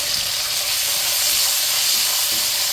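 Small onions, green chillies and tomatoes hit hot oil in a pan for a coconut-milk fish curry, sizzling in a loud, steady, close hiss without speech.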